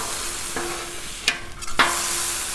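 Bacon frying on a hot Blackstone griddle gives a soft, steady sizzle, with a few sharp scraping clicks from a spatula near the end.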